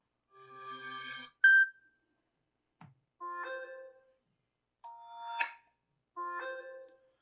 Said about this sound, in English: I kind of like that cosmic radio.